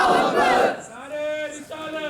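A crowd at a Milad un Nabi religious gathering chants a slogan in unison, a loud collective shout that breaks off, followed by a drawn-out voiced response and a second shorter call.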